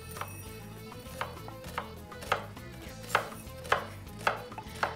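A knife chops ingredients on a cutting board in a home kitchen, with sharp strokes arriving about once a second over faint background hum and no talking.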